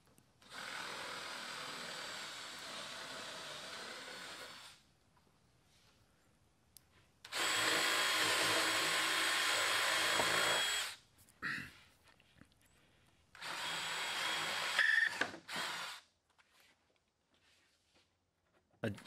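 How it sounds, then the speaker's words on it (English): Three separate bursts of a power drill boring countersunk holes into wood with a Forstner bit, each a few seconds long, with quiet pauses between. "countersink all my holes with the Forstner bit"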